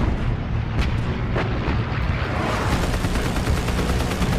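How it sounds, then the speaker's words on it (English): Heavy anti-aircraft flak and .50 caliber machine gun fire in a WWII naval battle at Leyte Gulf, Hellcats attacking a cruiser and destroyers; a dense, loud, continuous roar of bursts and rapid fire with sharp cracks near the start. "Slicing through the heavy flak, the Hellcats blister the cruiser and destroyers with 50 caliber machine gun fire and 5-inch rockets."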